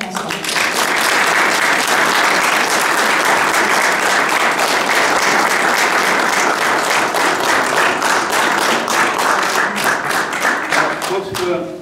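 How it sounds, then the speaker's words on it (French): Loud, sustained applause from the crowd at a 8 May commemoration ceremony, many hands clapping steadily and close, with faint voices under it, tapering slightly at the end. "je voudrais vraiment qu'on applaudisse très fort François"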